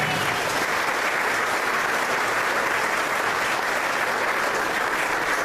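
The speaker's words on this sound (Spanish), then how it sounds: "Den un aplauso al Señor por eso." A church congregation claps steadily, a thick, even roar of many hands that holds at full strength without pause, with no voices rising above it.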